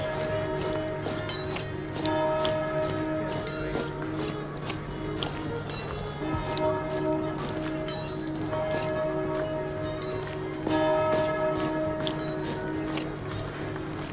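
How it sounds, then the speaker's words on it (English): Monastery bells ring in a video game, a series of repeated clear metallic strikes with long sustained tones over a low continuous hum, in a steady rhythm throughout. "The bells are calling us."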